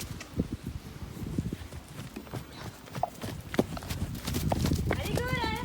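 A pony's hooves clip-clop at a stable as it walks over, irregular close steps under a voice calling to it, with a whinny near the end.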